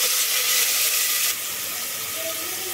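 Onions with curry leaves frying in hot oil in a pan for vegetable biryani, a steady close broadband sizzle that drops slightly in intensity partway through, continuous with no talk.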